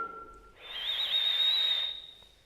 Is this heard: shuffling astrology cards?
no